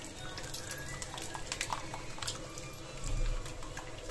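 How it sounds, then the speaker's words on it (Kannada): Boiled biryani rice being drained of its cooking water, with a steady close rush of pouring, splashing liquid that swells briefly toward the end. "ಇವಾಗ ಇದನ್ನು ನೀರು ಸೋದಿಸ್ಕೋಬೇಕು"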